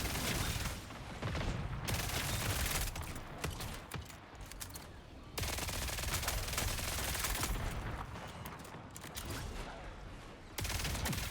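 Dense automatic gunfire in the shooter game Marathon Season 2, rattling in long continuous bursts with brief lulls between them, loud and close, with a voice faintly underneath.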